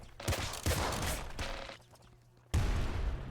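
Seeker Shotgun blasts in a video game, a few loud, punchy shots in quick succession, a short lull, then another sharp blast near the end.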